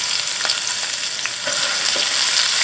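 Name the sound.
broccoli rabe and potatoes frying and being stirred in pan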